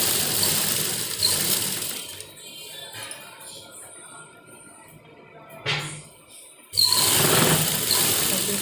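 A sewing machine stitches pieces of kurti fabric together with a loud, steady whirring run. The machine runs at the start and again at the end, and quieter handling noises fill the pause in between.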